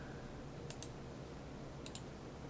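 Mouse clicks from someone working in 3ds Max: two quick pairs of faint, crisp clicks spaced about a second apart over a low, steady room hum.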